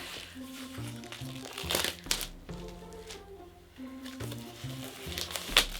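Packaging crinkles and crunches while a Harry Potter poster frame is unwrapped, in repeated close bursts of rustling plastic and cardboard with a brief quieter pause midway and a voice talking over parts of it.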